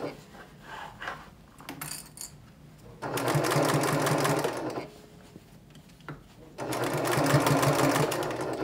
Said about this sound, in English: So I'm going to continue sewing all the way around